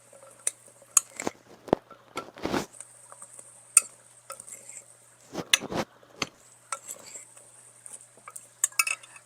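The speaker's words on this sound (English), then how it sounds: "give that avocado oil and butter and all that in there a good stir" A spoon stirs avocado oil and butter in a pan for a ribeye steak, making sporadic metallic scrapes, clinks and taps against the pan between quiet pauses, with no talking.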